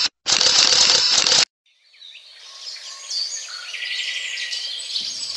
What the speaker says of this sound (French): j'aime entendre les oiseaux chanter